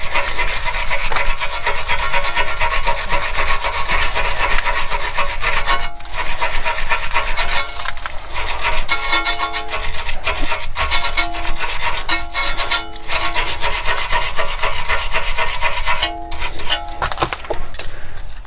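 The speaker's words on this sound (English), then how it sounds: "to tackle this problem we're gonna have to use our wire brush" A wire brush scrubs corroded nuts on a VW Transporter during a CV boot replacement, with loud, continuous rasping strokes up close, interrupted by a few brief pauses.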